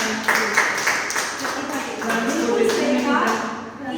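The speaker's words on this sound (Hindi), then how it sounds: "एक बार जोरदार तालियां" Indoor audience at a Modicare talk breaks into loud, dense applause, a continuous rattle of many hands clapping that holds steady for a few seconds before tapering off.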